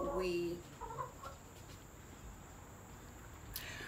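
Hens give a few soft clucks early on, then fade into a quiet, hissy background with a faint insect-like drone.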